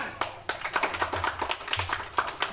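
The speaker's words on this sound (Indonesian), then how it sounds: "Biar semangat, kita tetap tepuk tangan." A group claps hands in a brisk, steady rhythm during a school physical education exercise session on heart endurance; the sharp claps come close together, with no talking.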